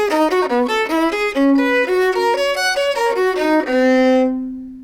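Bach episode played on a keyboard instrument as a single melodic line of quick, clear notes in a tense, dramatic mood, loud and close, ending on a held note that fades out.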